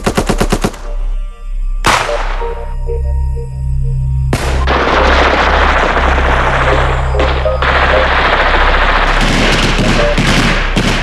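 Street combat between assault guards and rebel soldiers brings loud bursts of machine-gun and rifle fire, with sharp cracks and rapid volleys that stop and start, then swell into sustained, dense gunfire.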